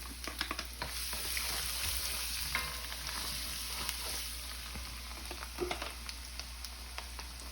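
Ginger dropped into garlic already frying in a pan for pork fried rice, a steady close sizzle with intermittent crackles and stirring scrapes over a low hum.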